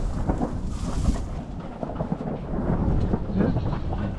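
Deep thunder rolls through a severe August thunderstorm on a farm, rumbling continuously with a louder crack near the start and steady rain hissing beneath, no voices.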